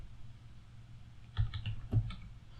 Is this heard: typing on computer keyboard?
yes